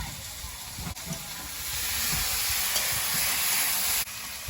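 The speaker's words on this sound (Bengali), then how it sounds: "আলুটা একটু ভাজা ভাজা হয়েছে এবার টমেটোটা দিয়ে দেবো" Potatoes fry in a pan with a soft, even hiss of oil that grows a little fuller midway, with a couple of faint clicks and no talk.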